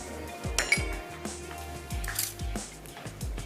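Eggs, cream and roasted coconut mixed in a bowl, giving a series of sharp, close clinks of a utensil against the dish at an irregular rhythm, fairly quiet, with no talking.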